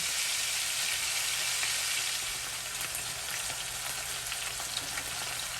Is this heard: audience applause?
no